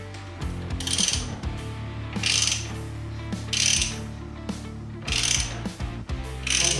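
A reamer is turned in a hole in a Shovelhead engine part, producing repeated ratcheting, grinding strokes in bursts of about one second, with short pauses between them, close and fairly loud.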